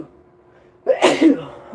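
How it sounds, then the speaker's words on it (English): A single sneeze bursts out after a quiet second, a sharp close-up explosive breath with a short tail, loud against a near-silent background. "I hate sneezing."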